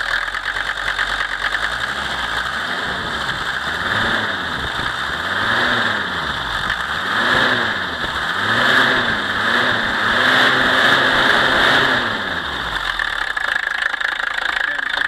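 A 1977 Mercedes 300D non-turbo diesel runs steadily for about fifteen seconds with a rough, clattering idle, and several rhythmic swells come and go as the throttle is blipped. A voice talks over the engine.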